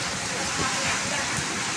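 A downpour in Dubai lashes steadily during a lightning storm, an even roaring wash of rain that stays loud and close throughout the short stretch, with no clear speech.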